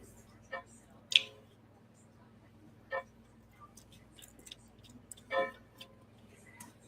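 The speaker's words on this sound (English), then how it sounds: "Is that a clock I hear?" A grandfather clock ticks faintly in a room, a few soft irregular clicks spaced over several seconds against a quiet background hum.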